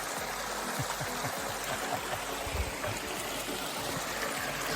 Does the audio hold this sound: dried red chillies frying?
no